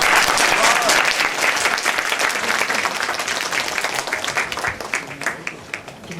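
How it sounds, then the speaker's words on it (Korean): Audience of high school seniors at Guro High School applauding to welcome a visiting lawmaker, loud dense clapping that starts at full strength and slowly thins and fades toward the end. "여러분들이 힘찬 박수로 열광적으로 맞이해주시기 바랍니다"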